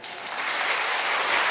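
A church congregation breaks into practice applause during a sermon, a dense, steady wash of many hands clapping that swells slightly and holds, loud and close.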